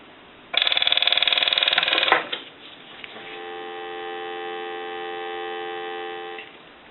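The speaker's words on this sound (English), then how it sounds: "I'll let it go one more time and give you some dial tone." Dial tone from a TA-954 military field telephone comes in after a short loud ringer burst and holds steady as a continuous hum-like tone for about three seconds.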